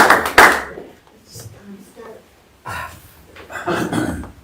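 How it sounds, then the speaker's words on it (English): Brief applause at a Purple Heart City ceremony, a short burst of close clapping at the start that quickly fades, then people talk in the room over scattered faint hand sounds. "maybe can we have one round of applause?"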